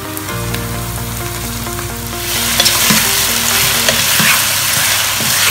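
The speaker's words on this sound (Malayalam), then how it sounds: "നമുക്കിനി ചിക്കൻ ആഡ് ചെയ്ത് കൊടുക്കാം." Chicken going into frying onions in a pan for Kabuli chicken pulao, with a sudden rise to loud, close sizzling followed by stirring scrapes and soft clunks over a steady hum.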